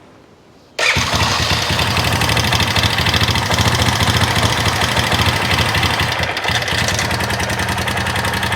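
A Honda quad ATV that sat under a tarp for almost a year cranks and catches with the choke partly on, then settles into a loud, steady, close idle with a slightly uneven knocking rhythm that runs to the end.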